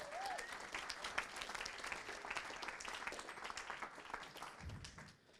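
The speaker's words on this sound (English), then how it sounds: "let's give them a round of applause, and a big round of applause for Team Austin" An audience at a tech events panel in Austin gives a dense, steady round of applause that continues throughout and tapers off near the end.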